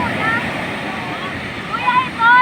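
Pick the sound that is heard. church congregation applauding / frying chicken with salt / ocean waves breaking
ocean waves breaking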